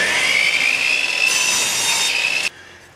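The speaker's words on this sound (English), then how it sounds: "So Daryl has to cut some pieces for this." Wood is cut with a power saw to make pieces for the base of a native hand drum, a loud steady whining cut lasting over two seconds before stopping abruptly, leaving a low hum.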